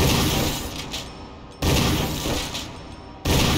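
Gunshots fired at a spider in Resident Evil 1 HD Remaster, three loud booming blasts spaced about a second and a half apart, each with a long decaying tail.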